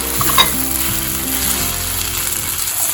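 Podi powder is stirred into hot oil in a pan, a loud, close, steady sizzle with scraping and clicking from the stirring spoon, and no talking.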